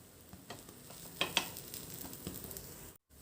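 Rava uttapam topped with onion and tomato cooking on a pan, a faint soft sizzle with a few light taps and scrapes as the topping is pressed down, ending in a brief silence.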